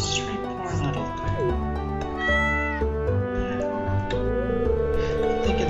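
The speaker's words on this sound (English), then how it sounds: "you see this cat here?" A cat meows repeatedly in the farming game Stardew Valley, the calls sitting among steady layered background music.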